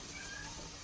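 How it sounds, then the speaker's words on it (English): A pet cat meows faintly in the background of a home kitchen, one soft, drawn-out call buried under steady room noise. "In the back, maybe you could hear our cat Chaos."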